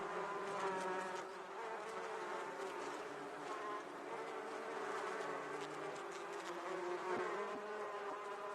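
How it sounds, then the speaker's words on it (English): Bumblebee in the VR game Polinator Park, a steady, close droning buzz that holds on without pause, rich and even in tone with no other sounds. "Just like this bumblebee, many wild species live underground, in small colonies of a few dozen insects."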